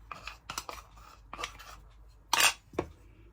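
Melted butter is folded into Belgian-style waffle batter in a bowl. A utensil clinks and scrapes against the bowl in a few short, separate strokes, with a louder scrape near the end. Fairly quiet and close.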